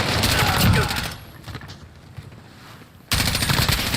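Rapid automatic weapon fire in Call of Duty Modern Warfare rattles loudly at the start, drops to quieter distant battle noise, then a dense burst resumes near the end.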